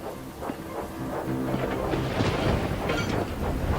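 A thunderstorm rumbles and hisses steadily, with broad noise and dense low rolling energy throughout, behind a steam locomotive's chuffing up a steep track toward a farm, with no voices.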